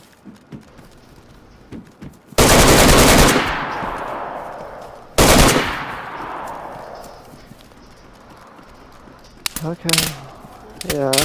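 Loud bursts of automatic gunfire in the video game DayZ, two long volleys followed by a few sharp shots near the end, with quieter stretches between.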